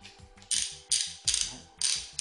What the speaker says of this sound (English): You'll need a 8 millimeter hex socket.